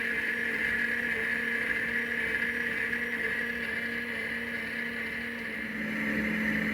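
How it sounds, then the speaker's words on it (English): A Tefal Easy Soup maker blends vegetable soup with a steady, loud motor whir that holds an even tone throughout, with no speech over it. "It's on its third or fourth blend now, which means it should nearly be done."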